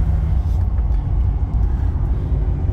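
A 1989 Aston Martin Lagonda Series 4 pulls away under acceleration, its engine a steady, loud low rumble close up that fills the whole stretch without a break.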